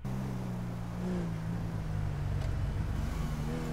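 Car engine in the GTA 5 video game: a steady, moderately loud motor drone with a slight rise in pitch as the car drives by, heard alone with no talk.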